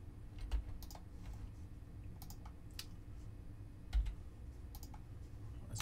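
Close-up typing on a computer keyboard: scattered bursts of light plastic key clicks in quick clusters, with an occasional heavier thump, over a quiet room hum.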